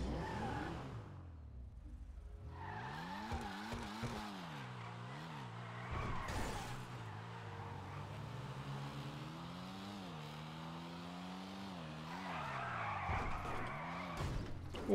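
A drift car in GTA Online slides with loud, sustained tire skidding over a wavering, revving engine, the squeal rising and falling through repeated slides, with a few sharper screeches near the start and end.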